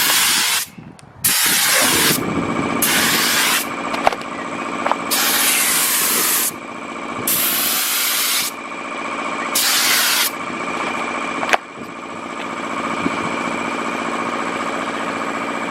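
A paint sprayer pump runs steadily with a constant mechanical hum, while loud bursts of hissing spray start and stop in about six separate blasts of one to two seconds each, close by, with no talking.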